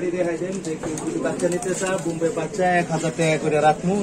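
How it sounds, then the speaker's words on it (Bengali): Bombay pigeons at a pigeon shop give soft, continuous cooing close by, layered with steady talk from people in the shop. "এক হাজার টাকা করে জোড়া বোম্বাই কবুতর দেখেন"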